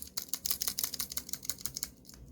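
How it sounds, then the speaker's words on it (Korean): Rapid, crisp clicking from a rubber keychain clicker toy in a quick irregular burst, close to the mic and fairly quiet, like keyboard keys being tapped. "옛날 그 뭐 키보드 딸깍이 알죠? 소리 나는 키보드 딸깍이 그런 느낌이에요."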